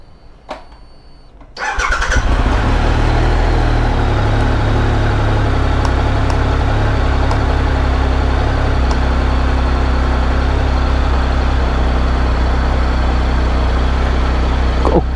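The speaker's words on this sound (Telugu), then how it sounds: "ఒక్క 2 మినిట్స్ వార్మ్ చేయాలి ఇంజిన్ని" A motorcycle engine starts after a quiet moment and then settles into a loud, steady idle while warming up, running continuously close by with no talk.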